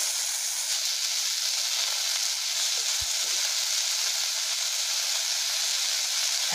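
Okra cooked in masala on a rural wood-fired clay stove gives a steady, loud broadband sizzle throughout, with a single faint tap near the middle and no talking.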